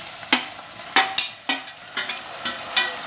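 Tomato and masala fry in a pan for a Mangalorean silver fish pulimunchi, with a steady sizzle broken by sharp scraping stirs about every half second.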